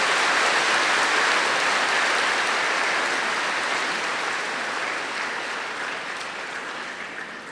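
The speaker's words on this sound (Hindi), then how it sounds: "जो उनको देख रहे हैं सबके लिए जोरदार ताली बजाओ।" An audience at a spiritual gathering bursts into loud, dense applause, the sustained clapping starting at full strength and gradually thinning and fading over several seconds.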